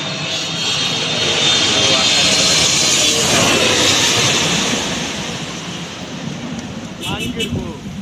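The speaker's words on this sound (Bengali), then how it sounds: "অ্যামিরাটস অসাধারণ প্লেনটি নামার পর মানে ল্যান্ডিংয়ের পর যেই বাতাসটা সৃষ্টি হয়" A loud roar of an Emirates airliner landing at an airport with a strong rushing blast of wind, fading toward the end as other noises creep in.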